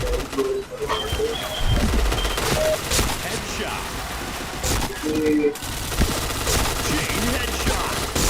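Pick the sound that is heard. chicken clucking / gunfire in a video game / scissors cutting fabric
gunfire in a video game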